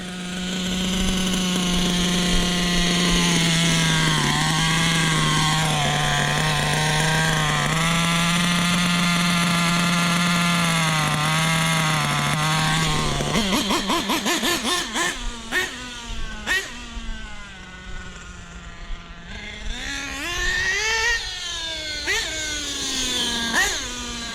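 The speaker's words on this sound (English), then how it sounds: "Now we turn the idle down." A truck engine idles after its idle is turned down, a loud, steady, close drone that drops partway through and then wavers unevenly at a lower pitch.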